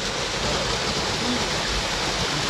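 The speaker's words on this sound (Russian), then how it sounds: "Водопадик красивый. Очень рада, что, в общем, течет вода здесь" Tsegelsky waterfall near Gelendzhik, a steady, dense rush of falling water heard up close, loud and unbroken with no voices.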